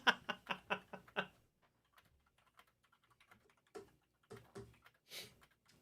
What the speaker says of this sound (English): while you're typing feverishly to JScar